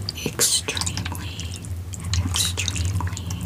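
Close, wet squishing of water beads with small drips and liquid crackles, recorded intimately for ASMR, with soft whispering running underneath.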